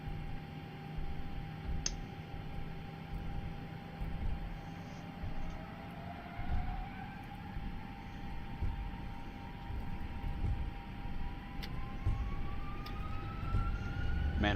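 Airbus A320-232 jet engines spool up for a takeoff roll on runway 28, a steady roar with a tone that climbs gradually over a rumbling low hum, heard continuously without speech.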